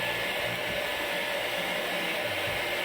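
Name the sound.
air blower cleaning a disassembled electric fan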